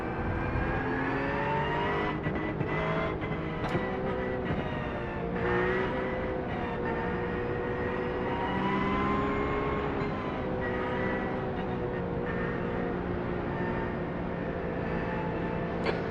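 Simulated race cars in an eNASCAR College Series game at Martinsville, engines droning steadily for the whole stretch, pitch dipping and swelling as the field brakes and accelerates, with no talk over it.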